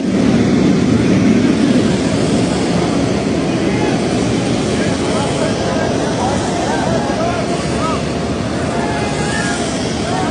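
A parked airliner at a Bangladesh airport produces a loud, steady engine roar that fills the scene without a break, with a crowd's commotion blended in underneath.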